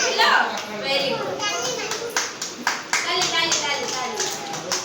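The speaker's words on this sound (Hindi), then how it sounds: "ताली" Children clapping their hands in a classroom during a lesson on small and big, a brief burst of scattered claps mixed with young voices chattering nearby.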